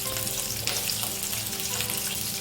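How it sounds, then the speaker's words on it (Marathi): Onion frying in oil in a pan while preparing prawn masala, a steady dense sizzle with faint stirring, close and continuous, with no talking. "आता आपण तव्यामध्ये पॅनमध्ये तेल घालून सर्वप्रथम कांदा फ्राय करून घेऊया"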